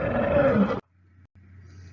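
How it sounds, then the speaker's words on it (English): A lion gives a single loud, close roar lasting under a second, followed by near silence with a low hum. "The sound produced by a lion is called roar."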